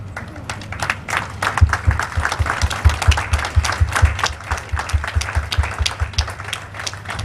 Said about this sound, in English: I want us to stand up to give him a round of applause